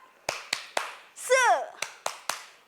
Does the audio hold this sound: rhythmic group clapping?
yes